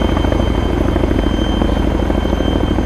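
Helicopter in the military game ArmA 3, its rotor thumping loud and steady throughout, close and alone with no talk over it.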